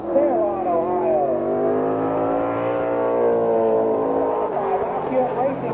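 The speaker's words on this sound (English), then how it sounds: "Racing engine." Race car engine at Columbus Motor Speedway in 1987, revving loud and steady with rising and falling pitch throughout, close by and continuous, with a commentator talking over it.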